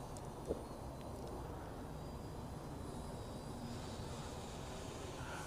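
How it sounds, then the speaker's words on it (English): An S197 GPS WiFi hobby-grade photographic drone flies, its motors giving a continuous, fairly faint buzzing drone that holds level throughout, with one brief click near the start. "hobby grade photographic drone"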